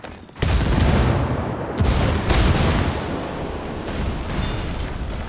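A frag grenade blows up in Ghost Recon Wildlands, a sudden loud blast followed by rolling rumble and further crashing booms that trail off, close and heavy with no talk.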